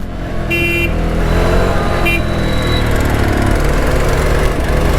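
A 2025 Jawa Bobber motorcycle's engine drones steadily while riding, with broadband wind and road noise and a couple of brief tonal tones near the start; a rider's voice is faintly present.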